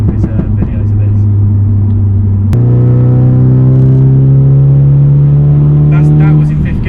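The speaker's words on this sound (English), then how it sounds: "That was in 5th gear as well, that, wasn't it? Yeah, so that was a 5th gear pull." 420bhp Audi S3 saloon pulling hard in fifth gear, its loud engine droning close and steady, then rising in pitch after a sharp shift-like crack, with voices in the cabin.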